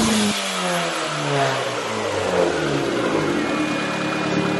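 A straight-piped Honda Civic engine with its muffler removed revs steadily and loudly, with a raw exhaust rumble and falling tones rising again over the whole stretch, and no voices.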